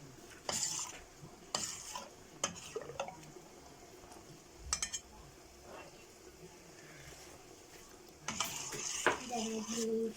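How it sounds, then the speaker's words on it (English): Stirring a bowl of Maha blanka mixture by hand, giving scattered scraping, sloshing strokes in short bursts with pauses between, then a longer, louder stretch of stirring near the end. "we will mix all this one like this. Mix it well"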